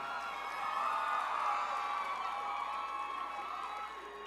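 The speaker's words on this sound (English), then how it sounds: "let's give them a round of applause" A crowd cheering and clapping at moderate distance at a Mr. Vineland pageant, a continuous roar of voices and applause that holds steady and then eases slightly toward the end.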